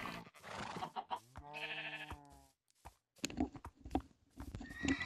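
A horse in the video game Minecraft gives a clear, high, wavering whinny partway through, set among other short animal calls and bleats with sparse quiet gaps between them.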